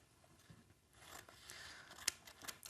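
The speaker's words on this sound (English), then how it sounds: "So I'm just cutting this straight out of my pad here like this." Scissors snip through a sheet of paper cut from a pad, a few soft crisp cuts building to a sharp close snip near the end and another after, with no talk.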